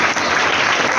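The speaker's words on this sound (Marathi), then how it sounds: "पुन्हा एकदा महेश सोनावणेसाठी सगळ्यांनी टाळ्या वाजवा." A brief, loud wash of applause from a school audience rises for Mahesh Sonawane at a children's Marathi literature conference held in a high school, many hands clapping densely and close.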